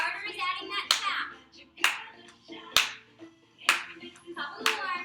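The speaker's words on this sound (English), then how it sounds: "Now clap." Sharp hand claps ring out about once per second, five in a row, during a seated Chair Zumba Gold workout, with an instructor's voice talking between them.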